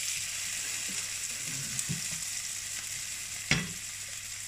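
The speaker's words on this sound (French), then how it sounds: "On va mettre le reste d'ail que vous avez haché avec amour dans la petite poêle." Chopped garlic sizzles softly in a small pan as a steady, quiet frying hiss, broken by a few light stirring clicks and one sharper tap near the end.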